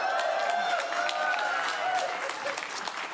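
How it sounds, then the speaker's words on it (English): A church congregation applauding during a Sunday service: steady, dense clapping from a large crowd that continues evenly throughout and slowly thins toward the end. "if you are watching and wondering why people are clapping"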